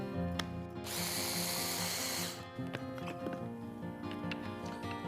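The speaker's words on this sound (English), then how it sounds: "Attach our mixer one more time." An electric mixer blending broccoli pesto whirs in one loud buzzing burst of about a second and a half, followed by soft clicks and taps of handling.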